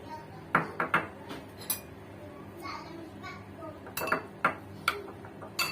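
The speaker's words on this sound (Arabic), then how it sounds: "هنبدا بس نعمل له فتحات بظهر المعلقه زي ما انتم شايفين كده" The back of a spoon pokes holes into rice in a pot, giving sharp metallic taps and scrapes in an irregular series, with a voice speaking in the background.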